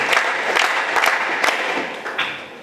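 An audience at a Kannada literary society gathering in Ullal claps for its guests, a short burst of close, scattered hand claps that tapers off near the end.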